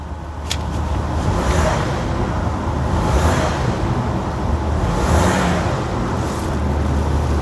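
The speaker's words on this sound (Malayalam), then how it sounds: "ഇനി ഒന്ന് റവ് ചെയ്ത് നോക്കാം എങ്ങനെയുണ്ട് എന്നുള്ളത്." A 2013 Porsche Panamera with a V6 engine revs close by, a dense, steady roar that swells in a few slow surges and never drops to a quiet idle.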